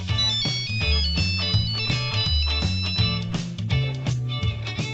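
A phone ringtone plays a bright, repeating electronic melody with a steady rhythmic beat, loud and close, continuing without pause and with no talking over it.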